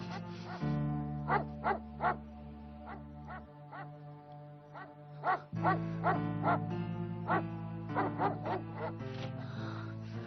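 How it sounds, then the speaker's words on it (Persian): A dog barks in a series of repeated yelps and woofs, fairly close, over a steady low droning tone that drops out midway and returns. "این سگ واسه چی انقدر پاس میکنه؟"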